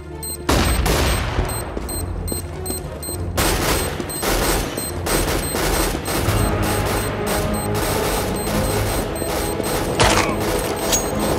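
Counter-Strike: Global Offensive match audio: loud, dense rapid gunfire and clattering weapon mechanics run almost continuously, with a sharp flashbang burst among the shots and no clear talking.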